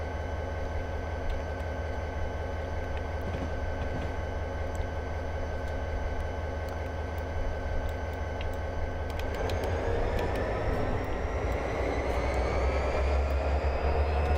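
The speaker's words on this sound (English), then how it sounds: "Train's bouncing around quite a bit." A BN freight locomotive rolls along in the Railworks train simulator, a steady rumbling drone with rail clatter and engine tone throughout, building and brightening in the last few seconds as the train picks up pace.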